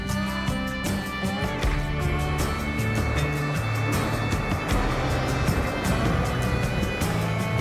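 An off-road overlanding vehicle's engine revs and pulls hard on a rough trail, a loud continuous drone that holds steady throughout with no clear speech.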